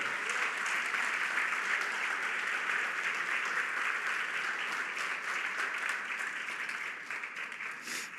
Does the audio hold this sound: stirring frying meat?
no